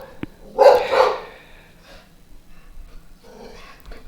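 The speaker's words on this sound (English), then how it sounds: "Can you bark again, Fifi?" A dog indoors in a mostly empty house gives one short, breathy bark or huff up close, followed by faint snorts and breathing.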